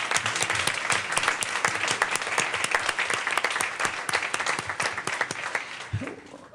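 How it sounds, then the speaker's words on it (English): An audience gives a big round of applause, dense steady clapping from many hands filling the room at close range before tapering off at the end. "give her a big round of applause"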